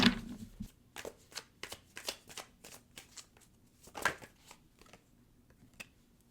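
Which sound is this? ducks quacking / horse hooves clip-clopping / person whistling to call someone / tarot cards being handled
tarot cards being handled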